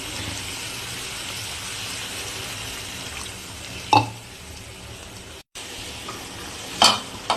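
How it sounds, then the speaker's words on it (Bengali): Pointed gourd and shrimp sauté in a pan with a continuous close sizzle and hiss, broken by a couple of sharp utensil clinks and a brief dropout. "তো দেখো পটল চিংড়িটা আমার কষানো চলছে।"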